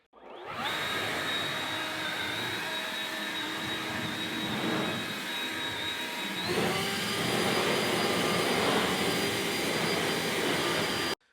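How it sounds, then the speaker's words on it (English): A Ryobi 18V 730 Whisper handheld leaf blower runs continuously near the listener, giving a steady whooshing roar with a high whine; partway through, the pitch and loudness step up as it switches to turbo mode. "So now for the 730 Whisper, I'll do like half the hood on regular, walking around, and then I'll go into turbo mode on the back side."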